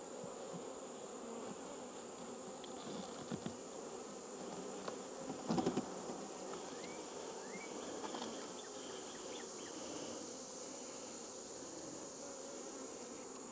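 Honeybees buzz around an opened hive on a farm, a dense continuous drone close by with brief louder passes of individual bees and no talking.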